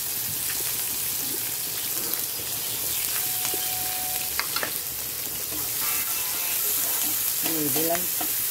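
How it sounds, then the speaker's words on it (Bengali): Fish oil frying in a pan with onion, green and dry chilies, black cumin and garlic, giving a steady close sizzle with stirring scrapes throughout. "দেখো এখানে মাছের তেলটা ভাজবো দেখে কালো জিরে, শুকনো লঙ্কা, রসুন দিয়ে দিয়েছি"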